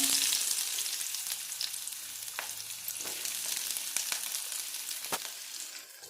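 Onions sizzle steadily in hot oil, a bright crackling hiss with occasional sharp pops and stirring clicks, no voices.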